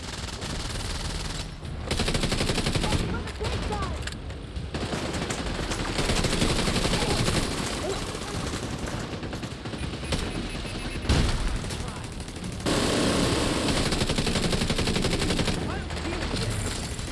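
Sustained automatic gunfire in the shooter game The Division 2, dense loud bursts almost continuous across the clip with brief gaps, plus a faint voice under the shooting.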